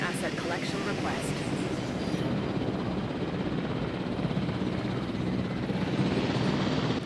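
A helicopter in the video game Jurassic World Evolution gives off a steady whirring rotor drone throughout, with a voice talking over it.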